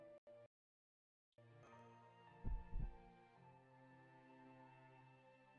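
Heartbeat sound effect in the Fate Grand Order video game: a few low, thumping beats clustered in the middle, after a brief silence, over a steady hum of game music, with no talking.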